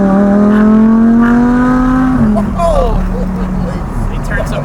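An Audi R8 V10 engine screams as it revs hard to the rev limiter and steadily climbs, then drops sharply as gears shift, loud and close with road noise beneath.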